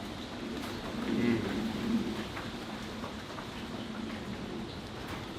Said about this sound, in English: let's enjoy the lovely sound of the rain